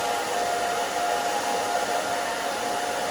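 A hair dryer blows steadily and loudly throughout while drying a short bob haircut, a constant whooshing roar with a faint high whine running through it.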